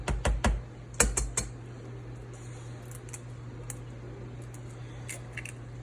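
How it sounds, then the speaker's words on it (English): An egg cracked against a bowl and separated, yolk from white, for gelato: a few sharp close taps and cracks at the start, then quiet shell and liquid handling sounds. "So take your egg, crack it."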